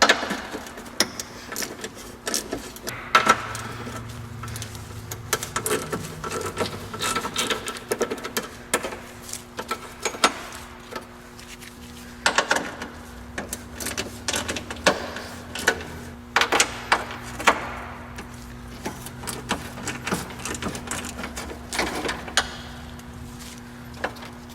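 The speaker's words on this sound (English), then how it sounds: "now let's remove the brackets that hold the radiator in place" Ratchet removing 10 mm radiator bracket fasteners on a 1999 Acura CL, with scattered irregular clicks and short rattling bursts in a quiet garage over about twenty-five seconds, with no speech.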